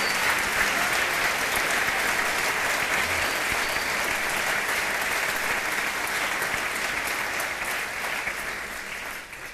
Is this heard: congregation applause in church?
yes